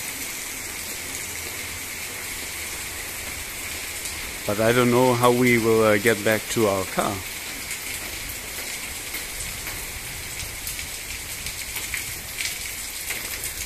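Heavy rain pours steadily in the streets of Rethymno, Crete, a constant dense hiss throughout, with someone talking briefly over it midway.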